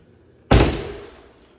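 One sharp wooden knock of a cabinet door, close and sudden, fading quickly into a quiet room.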